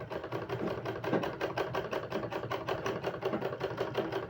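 A household sewing machine with a threaded needle stitching, a steady fast mechanical clatter of even repeating beats, close and continuous with no talk.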